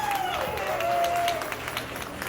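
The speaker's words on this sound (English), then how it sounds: "a huge round of applause" A crowd at a Sindhi community cultural event applauds after a singer's performance, a steady wash of clapping with a sustained tone, probably from a mic or instrument, gliding beneath it, and faint voices mixed in.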